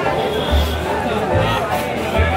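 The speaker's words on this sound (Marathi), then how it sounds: "आओ बाबा काय गर्दी आहे बघा, तुम्ही बघू शकता किती गर्दी आहे" Dense, steady crowd chatter at a busy Diwali firecracker stall, many voices babbling close by with low thumps underneath, continuous and loud throughout.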